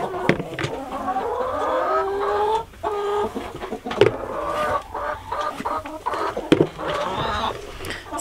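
Backyard chickens cluck and murmur continuously while pecking at lettuce ends and cucumbers, a close, busy flock chatter with a few sharper calls and scuffles throughout.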